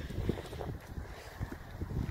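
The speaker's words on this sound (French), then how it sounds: "Il y a un petit peu de vent ce matin." Morning wind off the ocean at a seaside spot where the tide is rising, a steady broadband rush with gusting swells, fairly close and alone without talk.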